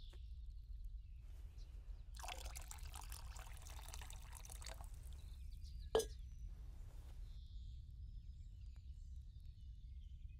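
Water poured during alchemy in Kingdom Come Deliverance Alpha 0.4, a faint splashing pour lasting a couple of seconds, followed by a single sharp plop, quiet against a low background hum.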